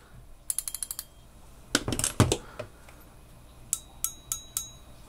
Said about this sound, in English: Has a clickier drag, like a cooler sounding click. With more clicks per inch.